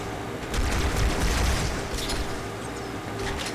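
Covenant rifle fire in the Halo 2 video game, a quick burst of several rapid energy shots up close followed by a few scattered discharges over a low rumbling game backdrop.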